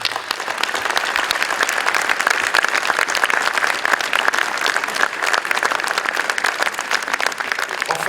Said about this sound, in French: Je pense qu'on peut applaudir Jean-Marc.